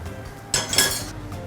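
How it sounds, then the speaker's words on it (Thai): A metal frying pan clanks down onto a stovetop once, a short close clatter of cookware against metal in an otherwise quiet room. "ตั้งกระทะให้ร้อนเลย"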